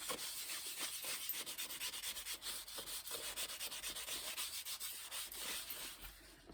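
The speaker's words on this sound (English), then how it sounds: "here I've got a little bit of cooking oil and a little bit of kitchen towel, and I'm going to just rub that on there." A kitchen towel dampened with a little cooking oil is rubbed over a silver-on-stone pendant, giving a steady close-up rhythmic swishing and scrubbing with no talk.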